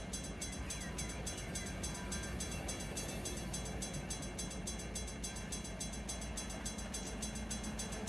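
A train rolls past steadily in Run 8 Train Simulator, a constant loud rumble of wheels and cars with a continuous mechanical drone and no breaks.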